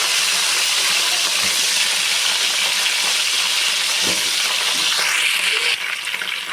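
Eggplant pieces frying in plenty of hot oil, a loud steady sizzling hiss with occasional soft stirring knocks and a brief rising tone near the end.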